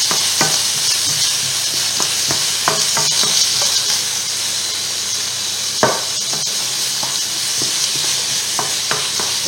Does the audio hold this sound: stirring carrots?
yes